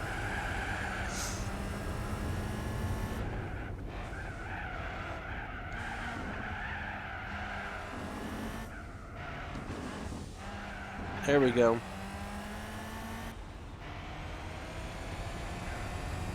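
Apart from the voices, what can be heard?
twin turbo V12 race car driving in Gran Turismo 4 video game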